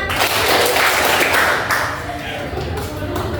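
Schoolchildren in a classroom clap together during a counting clap game, a loud, dense burst of many hands close by that fades slightly and then continues, with voices mixed in.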